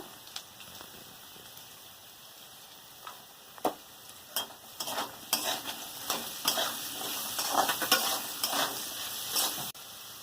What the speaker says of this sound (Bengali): লবণ দিয়ে একটু নেড়ে নিয়েছি